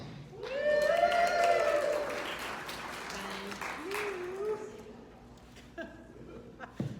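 Steady applause from a crowd swells and then tapers off, with scattered chuckles and a few voices calling out over the clapping.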